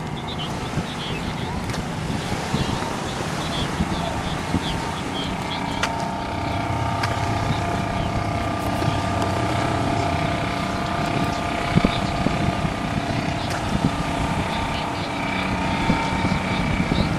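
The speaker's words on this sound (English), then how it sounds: "Lobster boat going out." A lobster boat motoring out from the shore at Gloucester, Massachusetts: a steady low engine drone over wind noise, heard from a distance and holding an even level throughout.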